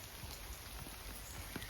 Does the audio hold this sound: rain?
yes